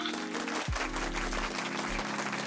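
A crowd at a talk on postpartum fitness claps steadily in a dense, even wash, with a low hum running underneath.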